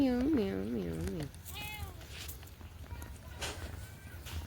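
A cat gives a few short, wavering meows up close, followed by quieter mewing and faint shuffling, with a person talking softly in between.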